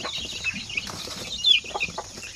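Native chickens packed for shipment from Bukidnon cluck and squawk nearby, with brief bursts of wing flapping punctuating the steady chatter of the flock.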